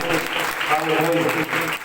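Church congregation clapping in welcome, a steady dense patter of many hands filling the space, with voices and singing-like tones mixed underneath throughout.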